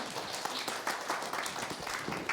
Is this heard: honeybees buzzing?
no